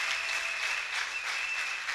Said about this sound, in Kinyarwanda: Nahaguruka tugakomera Imana amashyi.